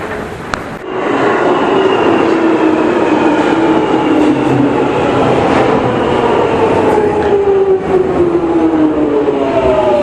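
A London Underground train rumbles loudly and steadily throughout, its wheels and motors droning with rising and falling whine tones after a brief click at the start.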